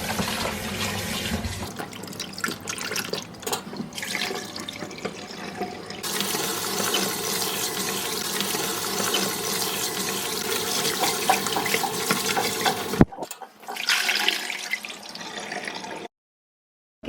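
Chicken drumsticks rinsed under running tap water in a kitchen sink, a steady close splashing gush that continues for about thirteen seconds, then stops, starts briefly again and cuts off.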